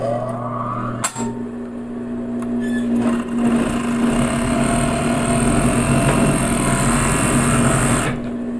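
A sewing machine stitches a seam on fitness leggings, starting with a few clicks and short bursts before settling into a loud, steady, continuous whirring run that lasts several seconds and then stops.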